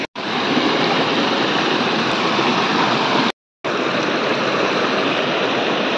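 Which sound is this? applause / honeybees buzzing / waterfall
waterfall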